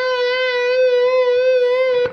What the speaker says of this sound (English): So a linear vibrato, which is very smooth from pitch to pitch, might sound like this.